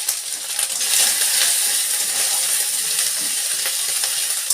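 Onion frying in hot oil with five-spice seeds, chili and ginger in a pan, a loud, close, continuous bright sizzling hiss with no talking.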